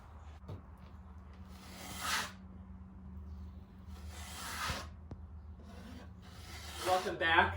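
A wide drywall blade spreads a third coat of drywall compound, giving repeated scraping, rasping strokes in bursts with quiet gaps between them, close and fairly soft.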